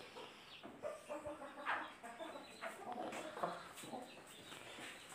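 Aseel breed chickens, including an Aseel cross, cluck and call repeatedly at close range in a lively series of short bursts against a busy farmyard background.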